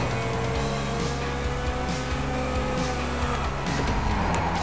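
Racing cars in the GTA V video game, played online on a PS3 on a course with ramps and jumps, give off a steady, loud engine drone with revving harmonics and brief tire squeals throughout, with no talking.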